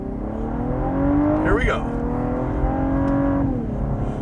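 A Cadillac ATS-V with a 464-horsepower twin-turbo V6, in manual mode with the loud exhaust setting, revs up with a steady engine drone that swells and dips. Someone talks briefly over the exhaust.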